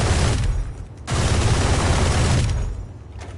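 A high-penetration gun fires in a video game. Loud, close automatic fire comes in two sustained bursts separated by a brief pause.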